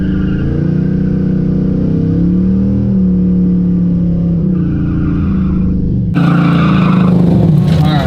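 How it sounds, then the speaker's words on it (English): A Buick Regal street car with hard drag tires doing a burnout, its engine droning loud and steady while the revs rise and fall, then swelling into a harsher, broader roar with tire noise near the end. "See if we can get at least a little burnout action."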